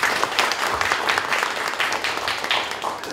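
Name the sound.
audience applause welcoming vice president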